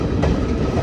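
Train at Nizamabad Junction railway station, a loud continuous rumble of rolling railcars with a brief burst of clatter, close by and without voices.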